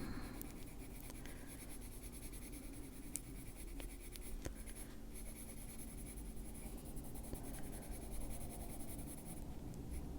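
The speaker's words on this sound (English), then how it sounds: "Just lightly using the pencil." Soft, steady scratching of a pencil drawn lightly across paper while green is added to a fantasy witch illustration, continuous and close over a low background hum.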